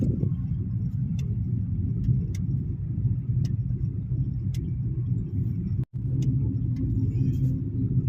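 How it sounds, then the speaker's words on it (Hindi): A car speeds along a smooth road, giving a steady, loud rumble of engine and tyre noise that carries on unbroken, with only a brief dropout near the end and no talking. "अब गाड़ी दौड़ रही है।"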